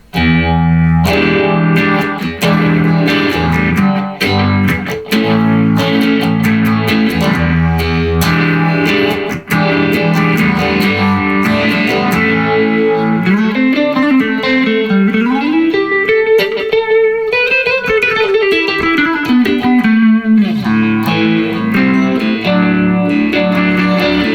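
Distorted electric guitar, a Squier Classic Vibe 50's Stratocaster, plays continuously with a sweeping, swirling phaser effect, the tone whooshing up and down through the middle of the passage.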